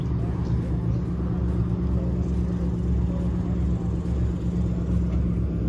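A car engine at a car show starts and idles with a steady low rumble close by, running continuously without breaks while people talk nearby.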